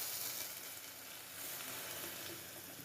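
Green coconut masala paste hits hot oil with darkened garlic tempering for a Konkani prawn curry, giving a soft, steady, continuous sizzle that sounds faint and even throughout.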